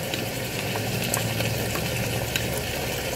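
Pork ribs with ketchup and bay leaves sizzle loudly in a pan while being stirred, a dense continuous frying hiss with scattered small pops and scrapes.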